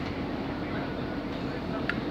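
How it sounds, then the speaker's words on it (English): Steady low rumble and rattle of a moving train carriage from inside, continuous throughout, with faint voices underneath. "He'll love the train we're on."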